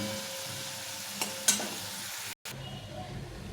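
Potatoes fry in hot oil with a constant bright sizzle close by, marked by a couple of brief clicks from a utensil and a momentary cut in the sound.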